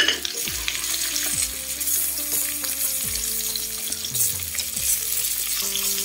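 Pork sizzles and spatters in a hot pan with garlic for a Mekong Delta–style braised roast pork with pickled mustard greens, a steady close frying hiss broken by several scraping stirs and clanks.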